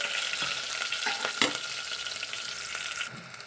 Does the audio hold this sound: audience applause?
no